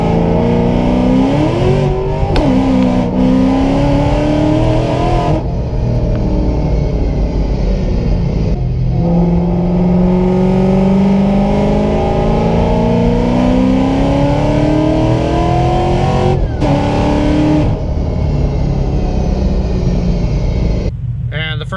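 A Ford Mustang GT500 with a Kooks X-pipe accelerating hard in third gear, a loud deep exhaust roar rising in pitch through long pulls, with brief gaps between them, recorded from inside the car.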